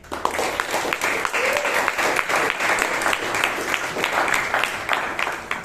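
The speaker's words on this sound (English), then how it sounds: "Let's give a round of applause to Shivangi." An audience at a Toastmasters meeting in Bangalore applauds with dense, steady clapping for several seconds, loud and close.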